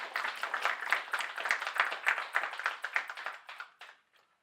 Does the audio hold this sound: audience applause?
yes